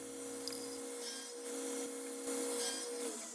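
A power tool trims wooden modular cabinet feet to final height against a stop block, a steady whirring hum with faint rubbing and cutting noise throughout.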